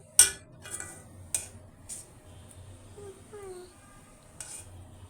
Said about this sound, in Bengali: আমি তো নাড়া দেই